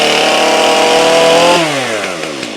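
A chainsaw fires up after a pull start on half choke, its engine roaring loud and steady close by, then the pitch drops as it settles toward idle, with no voices over it.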